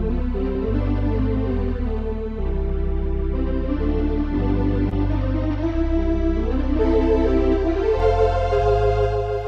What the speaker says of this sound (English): And I'll put on the organ with the 16-foot strings.